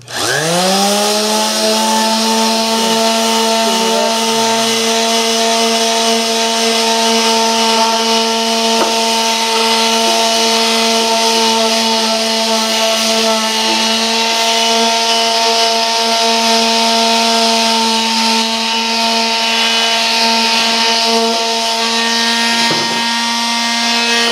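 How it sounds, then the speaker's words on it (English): Vibrating sander fitted with 60 grit paper working a model car or truck body, giving a loud, steady high whine with strong harmonics that runs unbroken for the whole stretch, close up with no talk. "vibrator type sander. You can do a lot of work with this. This is 60 grit on here right now"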